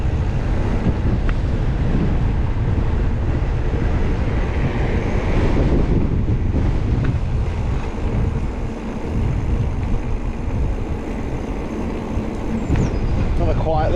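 Strong wind roars and buffets across the microphone while cycling downhill on a country ride, a loud continuous low rumble with gusty swells throughout.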